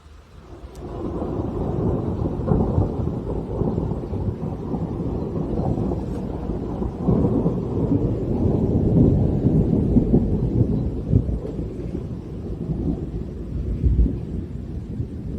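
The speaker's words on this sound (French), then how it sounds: "c'est un orage fort" A strong thunderstorm in Bordeaux, with heavy sustained rumbling thunder rolling continuously for the whole stretch, loud and deep, with rain-like hiss underneath and no talking.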